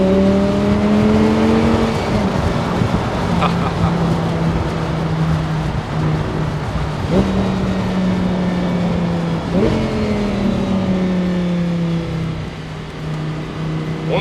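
Audi R8 V10 Spyder 525 engine accelerating hard through repeated gear changes, its loud, close tone rising in pitch several times with brief dips between shifts, heard alone without voices.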